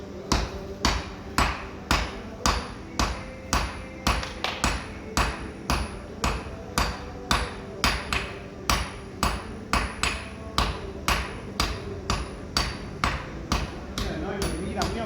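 A hammer strikes hot metal while short metal tongs are forged, giving a steady, evenly spaced series of sharp ringing blows, around two each second, loud and close, with faint background noise throughout.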